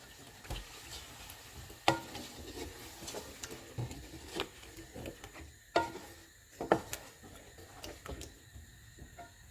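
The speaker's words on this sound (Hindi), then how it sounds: "इसमें दही और मसाले वाला मिक्सचर डालेंगे। इसको मिक्स करेंगे।" A spoon stirs a curd and spice mixture into chicken korma in a pot, with repeated scraping clinks and knocks over a soft background sizzle.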